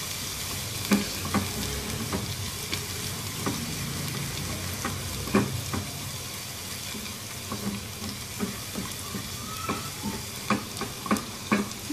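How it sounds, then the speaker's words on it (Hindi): Chili garlic sauce fries steadily in a pan with a continuous close sizzle, while a spoon stirs it without a break and scrapes and taps against the pan in an uneven rhythm. "अगर आप इसमें ऐसे मुसलसल चम्मच चलाते रहेंगे तो फिर इसकी रंगत तब्दील नहीं होगी"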